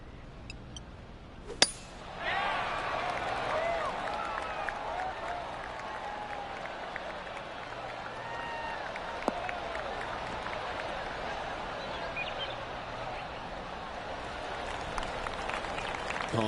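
In the PGA Tour 2K23 golf video game, a golf gallery breaks into polite, steady applause after a sharp click, and the dense patter of clapping holds at a moderate level for roughly fourteen seconds.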